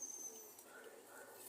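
Pigeons cooing faintly at a distance, soft and continuous under a steady background hiss.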